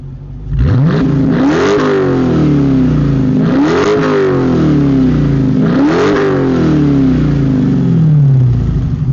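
A Hemi V8 car engine revs hard three times in succession, each pull rising in pitch before dropping back, loud and close with a throaty, rumbling tone and no talking.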